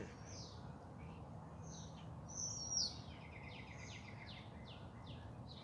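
Several birds chirp and tweet softly in the distance over a low outdoor garden background hum, with one brief, brighter call standing out midway.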